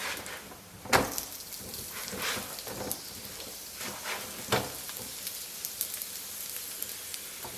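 Chinese chive-filled pancakes fry in oil in a pan with a steady, close, rain-like sizzle, punctuated by a couple of louder pops or taps.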